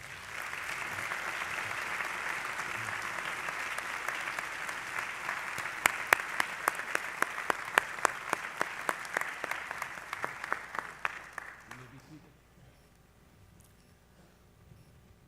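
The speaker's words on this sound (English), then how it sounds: "Won't you now give them a round of applause?" Audience at a Morehouse College MLK minister and laity forum gives a sustained round of applause, dense clapping that swells with a few sharp claps near the end before fading out around twelve seconds, leaving quiet room tone.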